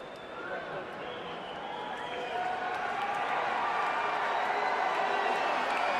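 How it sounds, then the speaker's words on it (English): Boxing arena crowd at the Pacquiao–Barrera fight booing Barrera as he tours the ring, a dense sustained roar of many voices that swells louder partway through. "Filipino fans booing Barrera"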